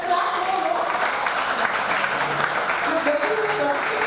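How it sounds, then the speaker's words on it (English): Graduates at a 2023 convocation clap together in steady, dense applause, with a voice speaking over the crowd. "Then clap more."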